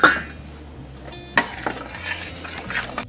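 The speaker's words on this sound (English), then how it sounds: "Continue to stir till it comes up to a rolling boil." A spoon scraping and knocking around a pot of fruit preserves on the stove, a few distinct clinks and stirring scrapes over a low background hum, close and fairly clear.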